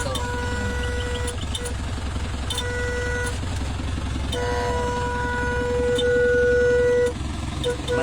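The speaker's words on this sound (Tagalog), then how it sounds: "Maingay nga lang yung busina" A car horn sounds on its own in a moving vehicle travelling through Barangay Girlan, General Trias, Cavite, giving steady tonal honks that hold for several seconds over continuous road and engine noise, with a long loud blast near the end.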